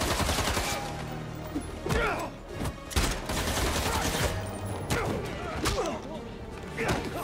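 Pistol gunfire in the Spider-Man 2 video game, several sharp shots spaced irregularly through the stretch among thuds and impacts, with a voice talking over the action.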